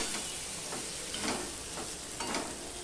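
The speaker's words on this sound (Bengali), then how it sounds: "এবার এর মধ্যে ভেজে রাখা ভেন্ডিগুলো আমি দিয়ে দিলাম ভেন্ডিগুলো দিয়েও আমি একটুখানি মিশিয়ে নিয়ে কষিয়ে নেব মিনিট খানিক" Fried okra being stirred and sautéed with spices in a pan, a steady soft sizzle with a few light scraping stirs, close and fairly quiet.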